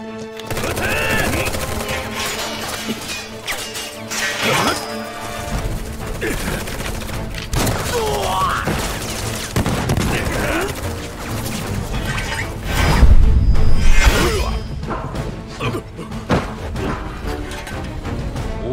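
Sustained gunfire in the Final Fantasy VII video game, dense bursts and crackling shots over a constant game soundtrack, loud and continuous with a heavier impact burst partway through.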